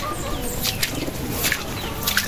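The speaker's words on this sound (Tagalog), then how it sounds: "Ito na mga panlaban natin na ibon." Racing pigeons in a loft coo softly while wings flap in short bursts, close by and layered over a steady background murmur.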